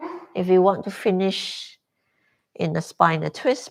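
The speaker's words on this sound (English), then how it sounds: "The sound you hear in the background is my dog dreaming." A dog whimpers and yips softly in its sleep in the background of a home yoga session, faint and mostly masked by an instructor speaking clearly up close.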